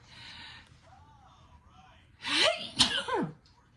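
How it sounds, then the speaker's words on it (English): A person sneezes indoors, one sharp loud burst followed quickly by a second, after a quiet stretch with soft background sound. "Uh-oh, I gotta sneeze."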